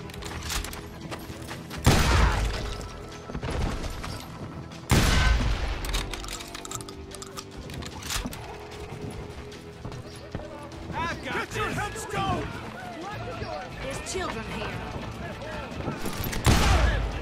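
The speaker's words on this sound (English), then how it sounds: "So much lead was whizzing by my head, it was like everyone in Lincoln wanted to put me in the ground." Gunfire rings out in the Old West shooter game Call of Juarez: Gunslinger, with loud shots, heavy booming blasts and ricochets over a busy action soundtrack, and someone talking through parts of it.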